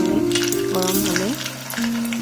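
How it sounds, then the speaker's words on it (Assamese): Lalmohan sweets, milk-based dough balls, frying in hot oil in a pan at home, giving a steady, loud sizzle throughout with some tonal background sounds and no clear talking. "তেলখিনি প্ৰায় গৰম হৈছে। আৰু এতিয়া মই এটা এটাকৈ লালমোহন দি দিম।"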